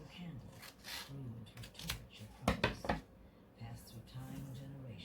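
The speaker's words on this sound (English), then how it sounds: "So we're going to just cut straight down the middle." Paper pages of a book being snipped with scissors straight down the middle, a few crisp cutting snips and rustles mixed with soft talking nearby.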